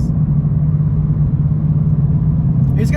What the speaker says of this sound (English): It just gets so much added drama to the exhaust. It just sounds so good.